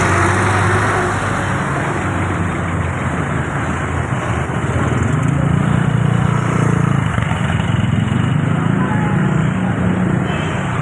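A motorcycle runs along a night street in Tondo, Manila, its steady engine drone loud and close for the whole stretch, blended with street noise.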